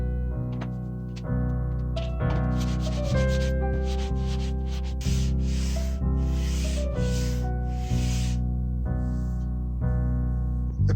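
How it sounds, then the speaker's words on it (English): Repeated scratchy rubbing strokes of a radius block sanding a wooden guitar fretboard, rhythmic and fairly close, play over steady background music. "my radius block tells me that I'm just sanding the sides right now"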